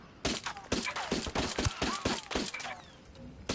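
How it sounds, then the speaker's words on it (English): Rapid gunfire from the video game Ghost Recon Wildlands, loud bursts of sharp shots in an irregular stream lasting several seconds, close and dense. "I see the guy shooting at you."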